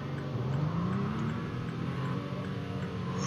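Steady engine drone of the Oxford A150 Pacifico 2 truck accelerating in a driving video game, a rising pitch sweep under continuous loud motor noise with no voices.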